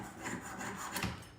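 A hand saw cuts through a piece of metal during a metal piercing demonstration, giving a quiet, brief rasping scrape of a couple of strokes.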